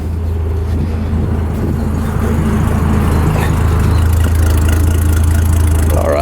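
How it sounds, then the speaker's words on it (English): A 1971 Ford F250 pickup with an inline six engine idles steadily just after a cold start, a loud, close, even mid-pitched rumble that runs unbroken and alone throughout. "you can hear it just idles just like that, gives that killer little inline six sound"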